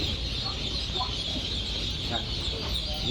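A crowd of young Khaki Campbell ducklings peeps nonstop at close range, forming a dense, steady, high chorus with a few louder calls standing out and no talking.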